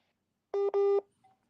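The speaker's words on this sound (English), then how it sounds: "I don't know what's happening with Daniel's phone" Tones come over the line from a caller's phone as two short electronic beeps in quick succession, clear and steady-pitched, followed by a faint blip, with no talking in between.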